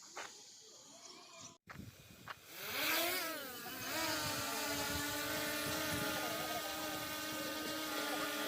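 A surveying drone flies over a lake, its rotors spinning up to a rising, wavering high buzz that settles into a steady drone, close and fairly loud, with faint voices beforehand.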